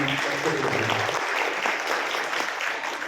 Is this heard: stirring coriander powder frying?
no